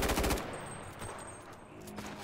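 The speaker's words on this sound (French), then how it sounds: "on tire de tous les côtés" Gunfire in the online battle game Cuisine Royale opens with a loud burst of rapid automatic shots, then trails off into quieter, more distant scattered shots over a noisy background.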